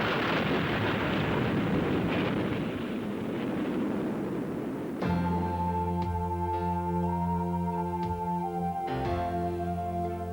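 An atomic weapon detonation: a loud, sustained broadband roar with rumbling low end fills the first half, then gives way to steady tonal music.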